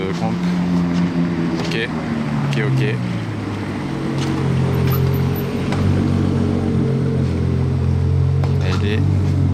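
A Ferrari 812 Competizione idles and rumbles nearby on a Monaco street, with a deep, steady engine drone mixed with traffic noise and someone speaking briefly.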